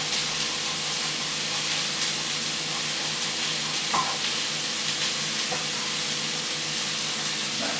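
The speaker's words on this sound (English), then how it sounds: "So add the onions to the pan, crush the garlic, and just roughly chop it up" Onions and crushed garlic fry in a pan for lentil dhal, giving a steady, moderate sizzle and hiss with a couple of soft stirring knocks.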